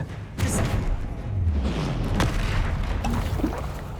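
An Expelliarmus spell cast in the video game Hogwarts Legacy lands as a booming magical blast over continuous rumbling combat noise, with sharp bursts and whooshes close up.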